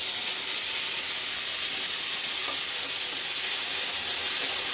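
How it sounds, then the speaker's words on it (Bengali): Water lily stems and prawns coated in mustard paste hit a hot wok, giving a steady close hiss and sizzle with no talking. "কড়াইতে এবার আমার শাপলা চিংড়ি মাছ সর্ষে বাটা দিয়ে মাখাটা দিয়ে দিচ্ছি।"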